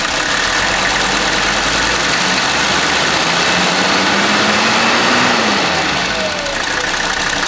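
A Mercedes 300D diesel engine idles at close range with a continuous low rumble and broadband mechanical noise; the pitch rises slightly midway, then settles back.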